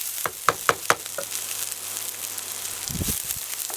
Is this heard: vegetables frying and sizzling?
yes